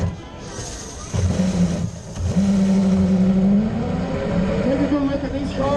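Race cars roll off on the warm-up lap of an endurance race, engines droning and rising in pitch as they accelerate past nearby, with talk over the loud, sustained mechanical roar.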